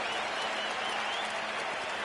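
NBA 2K basketball arena crowd cheering and applauding, a dense, steady roar of clapping and voices filling the space at constant volume.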